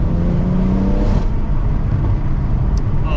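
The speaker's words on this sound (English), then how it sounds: "You need to hear this whining noise that the gearbox makes." A BMW M140i fitted with a Wavetrac limited slip differential, heard from inside while driving: a loud, steady engine and road drone with a faint high gearbox whine running through it.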